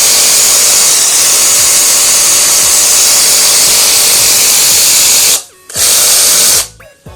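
A cordless reciprocating saw runs loud and steady with a fast back-and-forth buzz and strong vibration, then cuts out briefly near the end before starting up again.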